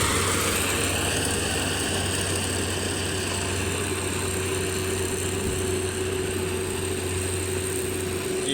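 A rice harvester machine cuts a paddy field, its engine droning steadily at close range with a constant whine over a low hum, unbroken throughout.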